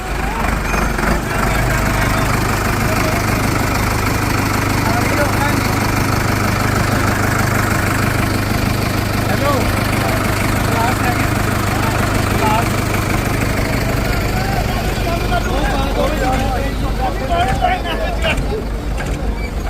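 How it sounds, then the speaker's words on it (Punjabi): Tractors hauling trolleys away from a protest stage site rumble and idle continuously at close range, a thick, steady engine drone with faint voices in the background. "ਦੇਖੋ ਟਰੈਕਟਰਾਂ ਦੇ ਨਾਲ ਕਿੰਜ ਟਰਾਲੀਆਂ ਨੂੰ ਹਟਾਇਆ ਜਾ ਰਿਹਾ ਹੈ"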